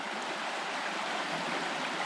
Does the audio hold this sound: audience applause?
no